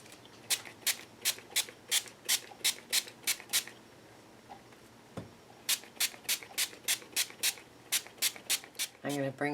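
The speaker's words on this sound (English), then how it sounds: "Spray it with some water." Hand spray bottle misting water onto a lampshade during a crafting project: two runs of quick, evenly spaced hissing squirts, about ten each, separated by a short pause, close and crisp.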